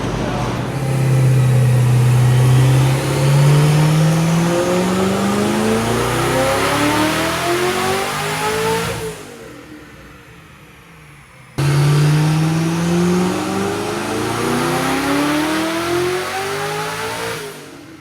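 A Corvette LS3 V8 swapped into a Porsche 911 revs hard, rising in pitch through the rev range, cuts off briefly, then revs up loudly again close by.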